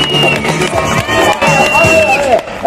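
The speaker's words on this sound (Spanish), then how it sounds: "donde la gente aplauda y grita" A street crowd at a clown show in Oaxaca's historic central plaza cheers and shouts, with loud overlapping voices, whoops and children's cries, plus some clapping, all close and continuous.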